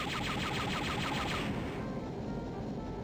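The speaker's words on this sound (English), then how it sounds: "Yeah, the blasts are definitely a lot faster." Rapid blaster fire from the video game Star Wars: Dark Forces rattles as a dense, continuous burst of shots, loud and close, with the crackling bright edge dropping away halfway through while a low rumble continues.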